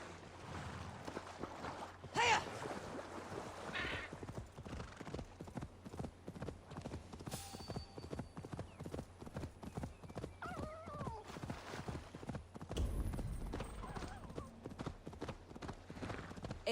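A horse trots in Assassin's Creed Valhalla with steady rhythmic hoofbeats, near and clear, along with a brief whinny, water in the background and no talking.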